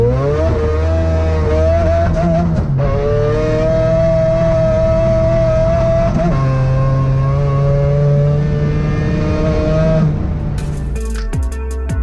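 A Mazda 323 with a 13B rotary turbo engine screams at high revs on a race track, loud and close, holding long sustained pulls with brief shifts in pitch between them, ending in a sharp crackle.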